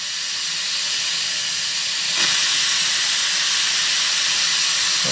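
Steam hisses in a loud, continuous, close rush while heating a broken foam P-51 RC plane, swelling slightly partway through and holding steady to the end, with no talking.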